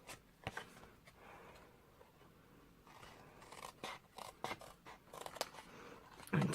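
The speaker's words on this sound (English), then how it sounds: "just get your snips and just cut down and slightly miter" Metal snips cutting card stock along score lines for a paper advent calendar, slightly mitering the middle section. A handful of sharp, close snipping crunches with pauses between, plus light scraping of paper.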